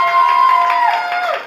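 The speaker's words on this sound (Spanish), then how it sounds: "A ver, el aplauso para los niños." Children in a crowd cheer and shout for the boys, a loud, sustained high-pitched yell from many voices with a faint patter of clapping beneath, close and dense.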